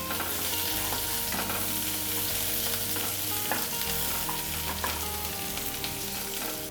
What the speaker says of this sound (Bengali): এবার পেঁয়াজগুলো হালকা করে আমি ভেজে নিচ্ছি।